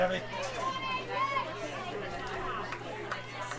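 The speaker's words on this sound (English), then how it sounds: "Nice crowd here tonight." Crowd chatter in the stands at an IHSAA regional high school softball game between Kokomo and Hamilton Southeastern, a steady murmur of many voices with a few louder calls standing out.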